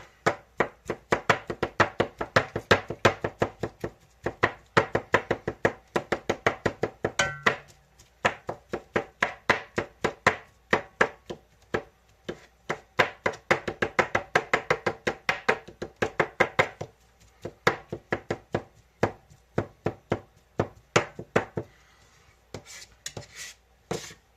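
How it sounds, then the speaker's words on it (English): Knife chopping a clump of seafood on a board for a seafood and rice hotdish, a long run of rapid, sharp, evenly spaced chops, close and crisp, with a few brief pauses and no talking. "take your clump of seafood and just chop it down"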